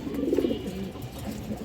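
Hungarian Budapest high flyer pigeons give a soft, continuous low cooing that rises briefly near the start and then murmurs on steadily, close by, with no voices.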